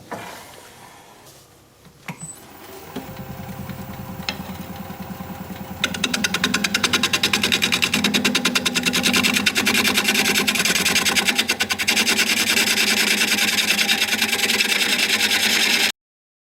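A wood lathe turns a piece of sycamore, starting with a quieter hum. A steady loud whirring drone with a rapid fluttering edge follows as the tool cuts the spinning wood, continuing without any talk.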